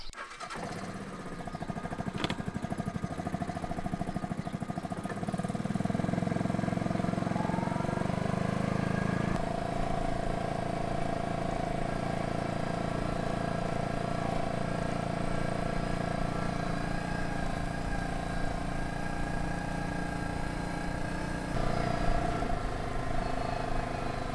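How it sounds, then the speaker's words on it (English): A Yamaha quad bike engine turns over and settles into a steady, close idle that runs unbroken to the end, with a brief rise in revs partway through. "We're going to be riding this lovely Yamaha quad bike, so let's get it fired up."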